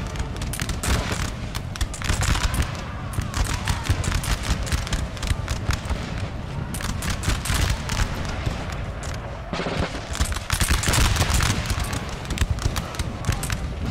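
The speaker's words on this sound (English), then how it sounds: "They're really trying to shoot into that building there." Musket volleys crackle through a Napoleon: Total War battle, infantry firing on a building: dense, overlapping sharp reports rolling on without pause, loud and near, with heavier bursts toward the end.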